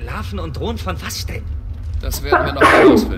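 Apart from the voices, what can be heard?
sneeze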